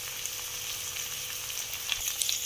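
Ginger garlic paste and tomato frying in a pan, a continuous bright sizzle with a few sharper crackles and pops, close and alone with no talk.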